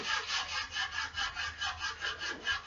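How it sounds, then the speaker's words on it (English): Rhythmic back-and-forth rasping, close and fairly quiet, of sandpaper rubbed steadily over a wooden model boat, about three strokes per second. "So we might keep sanding this actually."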